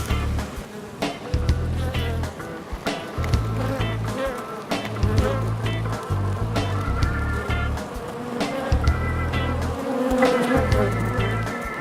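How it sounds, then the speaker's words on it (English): A thriving honeybee colony swarms around the entrance of a plastic hive stained yellow with pollen, giving off a dense, continuous buzz. The buzz is loud and close, with lower-pitched drones and individual bees passing near the microphone. "If we can take a quick little peek under the hood, you'll see there's a lot of bees."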